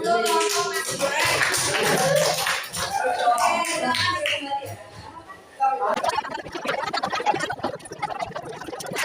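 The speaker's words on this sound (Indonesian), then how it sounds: "Oke, tepuk tangannya untuk kelompok nasi goreng." A classroom of students breaks into a burst of clapping for the group that presented nasi goreng, following a stretch of talking voices in the room.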